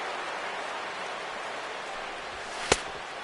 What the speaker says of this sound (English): The rain, as we've mentioned, coming down fairly steadily here at game time.